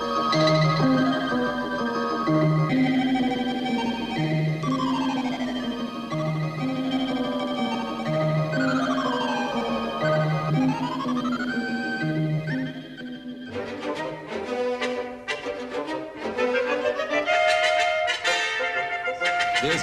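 Early electronic tape music from 1960s Britain, built from mixed and manipulated tape recordings: sustained tones, sliding pitch sweeps and layered textures, loud and continuous, turning denser and more clattering in the second half, with no voices.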